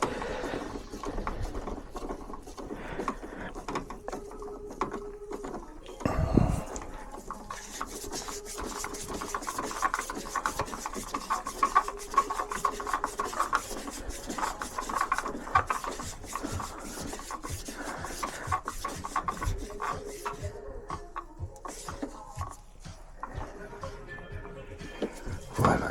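A hose clamp tightened by hand on an SPS Motorsport cold air intake fitted to a Mazda MX5. It makes a steady run of close, dry rasping and rubbing strokes with small metallic squeaks, and no one speaks.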